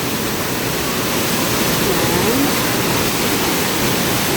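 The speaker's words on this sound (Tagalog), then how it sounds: "ayan po yung strong current ng tubig" Strong rushing water at Ubot Falls in Villa Aurora, a loud, unbroken roar of the waterfall current close by, steady from start to finish.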